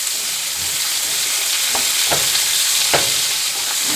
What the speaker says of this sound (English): So I'm going to be scratching this Teflon pan. Just pretty much browning this up a little bit.